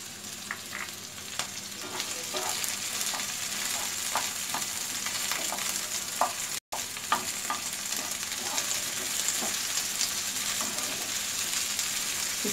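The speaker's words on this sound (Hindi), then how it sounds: "इसे ज़्यादा नहीं फ्राई करना है, सॉफ्ट करने के तरफ इसे पकाना है।" Capsicum and green chillies frying together in a pan for chilli paneer, a steady close sizzle with frequent crackles and light stirring scrapes throughout, interrupted only by a momentary cut.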